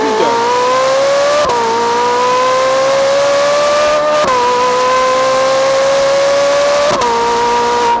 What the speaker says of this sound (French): Le moteur prend 9000 tours minute au maximum.